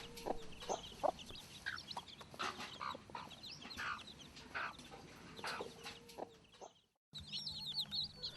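A hen clucks repeatedly in soft, low calls while chicks peep high and frequent around her, with a short break near the end.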